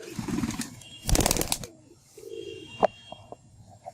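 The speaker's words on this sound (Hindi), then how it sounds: "अब मैं आपको ना ये कबूतर छोड़ के दिखाता हूँ।" A released pigeon flaps its wings in a loud burst as it takes off, followed by quieter coos and small sounds nearby.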